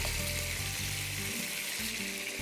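Onions fry in hot oil with a dense, even hiss that holds loud and close throughout, over a low humming background with faint tonal whine.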